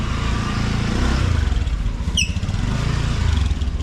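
A Honda Beat scooter engine, freshly re-grooved with new flyballs, runs close up in a steady loud drone that swells slightly without pausing, and no voices are heard.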